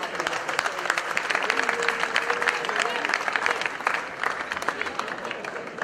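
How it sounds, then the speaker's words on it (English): A crowd claps steadily throughout, a full round of applause that stays even in strength before easing slightly near the end. "I think they deserve a round of applause"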